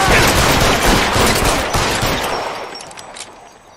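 Gunfire in the video game L.A. Noire: loud, dense rapid shots in a sustained volley that gradually tapers off and fades toward the end.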